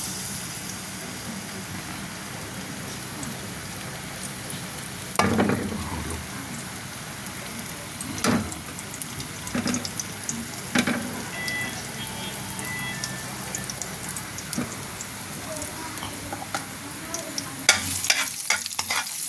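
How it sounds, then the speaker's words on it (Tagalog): Garlic sizzling and frying in hot cooking oil in a pan, a steady crackling hiss with occasional louder pops and stirring scrapes, no talk over it. "pag mainit na, lagyan natin yung bawang"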